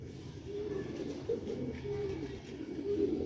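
Sialkoti grey pigeons cooing close by in repeated low, throaty coos over a soft background murmur, with no voices.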